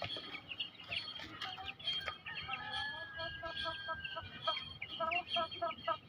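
Young chicks of a country hen breed at their feed and water trays, soft repeated clucks and peeping chirps scattered throughout at low level, with faint background noise and no clear talk.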